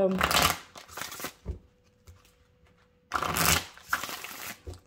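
A deck of oracle cards is shuffled by hand for a tarot reading, heard as two close, crisp bursts of riffling and flicking separated by a quieter pause.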